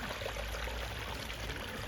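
Water from a newly built garden pond waterfall tumbles steadily over a big standing rock, a close, continuous broadband rush and splash with no pauses or voices.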